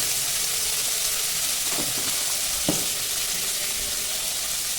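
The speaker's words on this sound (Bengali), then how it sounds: "আমি এর মধ্যে নুন হলুদ দিয়ে মাছটাকে লাল লাল করে ভেজে নেব" Fish coated in salt and turmeric fries in hot oil, a steady close sizzle with a couple of brief stirring or utensil knocks.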